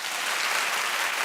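A television talk show studio audience claps loudly, a thick, even burst of applause with no break.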